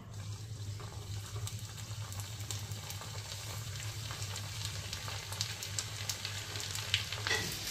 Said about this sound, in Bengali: তো এখনই এটা ভাজবো